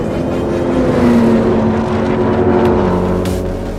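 A Corvette drag races with a loud, close engine roar that holds strong, its pitch shifting as it accelerates, easing slightly toward the end.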